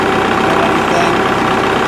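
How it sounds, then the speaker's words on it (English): A Kubota MX6000 tractor engine idles with a steady, loud, even rumble that runs unbroken throughout. "We'll start the tractor and show you."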